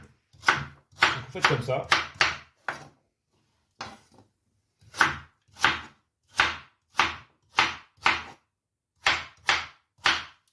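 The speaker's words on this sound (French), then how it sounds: "Et les carottes, tout simplement, vous allez faire des rondelles d'un demi-centimètre." A knife chopping carrots into half-centimetre rounds on a board, sharp distinct strikes in irregular bursts then a steadier rhythm of single cuts, close and clear, with a brief spoken remark in French among them.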